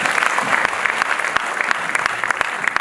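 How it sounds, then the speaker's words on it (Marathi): Loud audience applause at the Pune music launch of the Marathi film Boys 3, dense continuous clapping with sharp individual claps standing out, a faint voice underneath. "क्या बात, जोरदार टाळ्या"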